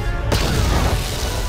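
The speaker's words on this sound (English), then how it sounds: "I'm gonna toss a grenade over there." A grenade blows up in the video game Star Wars: Knights of the Old Republic: a sudden loud blast lands just after the start and rolls into a dense, sustained rumble, with no voices over it.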